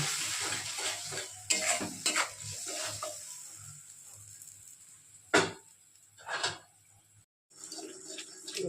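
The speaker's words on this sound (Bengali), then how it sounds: "এবার স্বাদ মতো লবণ, হলুদ দিয়ে আমি কষিয়ে নেব।" Spices with salt and turmeric frying in a pan, with soft intermittent sizzling and scattered scrapes and clinks of a utensil stirring against the pan.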